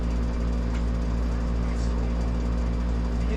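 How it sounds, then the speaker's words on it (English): An air conditioner runs in a fishing camp cabin with a loud, constant low hum and steady broadband whir that never changes. "The air conditioner's on,"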